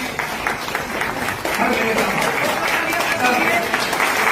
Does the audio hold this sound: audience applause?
yes